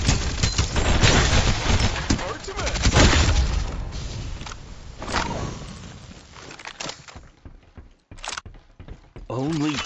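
Gunfire in a Farlight 84 team deathmatch: dense, rapid bursts of shots and impacts, loud and close, thinning out toward the end into scattered shots with game voices speaking between them.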